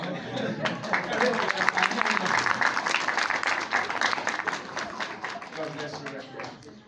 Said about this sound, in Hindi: सही तरह से तालियां बजाओ।